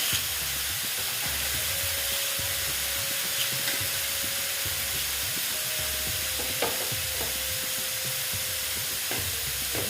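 Lentils stirred and frying in a pan with bottle gourd curry, a steady sizzle and hiss under repeated scraping strokes of a spoon, close and continuous throughout.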